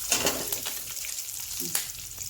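Ingredients for a tangy green-mango appe rasam fry in a pan, giving a close, steady crackling sizzle with a few stirring scrapes and clinks, no voices over it.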